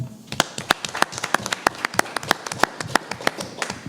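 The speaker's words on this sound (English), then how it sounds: "Get a round of applause, please" A welcoming round of applause from an audience at a neighborhood council candidate forum, sparse and uneven with distinct individual claps rather than a dense roar, fairly close and carrying on for several seconds.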